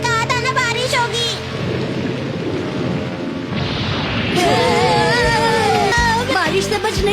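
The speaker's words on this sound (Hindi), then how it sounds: "देखिए मौसम बहुत खराब है और बारिश भी हो रही है" Rain and rumbling thunder from a Shinchan cartoon storm scene, a broad steady wash of noise with deeper booms, heard under and between animated characters' voices talking throughout.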